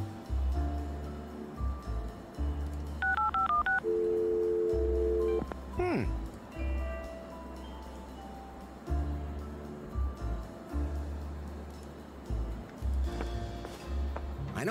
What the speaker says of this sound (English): Okay, what should I dial?